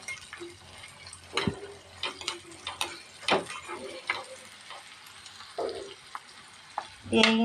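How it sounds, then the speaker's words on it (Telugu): Spices and garlic sizzle in a pan for a tempering while a utensil clinks and scrapes against it in short irregular strokes, with light background noise. "పోపు బాగా ఆగాలి"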